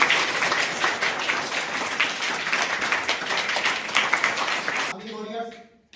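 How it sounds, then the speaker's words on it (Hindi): Loud, dense clapping from an audience at an ashram cricket match, sustained for about five seconds before cutting off abruptly. "एक बार सभी जोरदार ताली हो"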